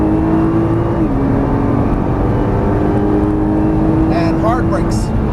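A Nissan GT-R engine drones on a racetrack, steady loud tone that shifts pitch slightly as the throttle is squeezed, with an instructor talking over the engine noise inside the cabin.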